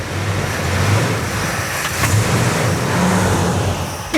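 A Plymouth Superbird Mopar engine starting and revving, with rough low throbbing idle pulses and a couple of short rising revs, close and loud, and a sharp burst at the very end.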